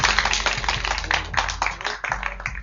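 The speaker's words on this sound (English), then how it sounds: "Where's my applause?" Live radio show audience breaking into applause, a dense spatter of claps lasting a couple of seconds at moderate loudness with no talk over it.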